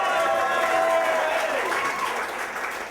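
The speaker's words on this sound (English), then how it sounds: "This is the part where you're supposed to applaud." Audience at a story slam breaks into applause, a dense burst of clapping that swells then gradually thins out over a few seconds.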